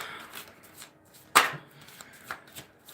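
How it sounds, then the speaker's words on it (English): Tarot cards are shuffled and one is drawn: soft, close rustling of card stock broken by a single sharp snap of cards, then quieter handling. "We'll pull one of these cards to see."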